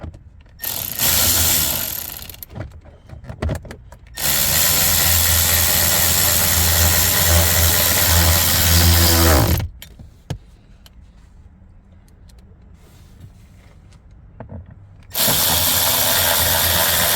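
Cordless power tool driving the middle bolt of a Mercedes ignition switch, with two long loud whirring runs separated by a quieter stretch, plus short close bursts at the start.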